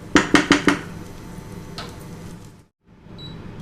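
A knife cuts through boiled eggs on a board with four quick, sharp knocks in a row, then a quieter rustle of handling and a brief silence, close by and without speech.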